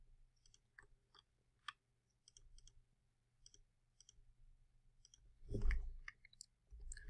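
Scattered, sparse computer mouse clicks while drawing in AutoCAD 2015, quiet and close, with a brief low thump partway through.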